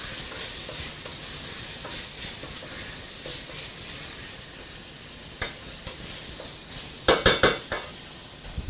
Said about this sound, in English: A good stir.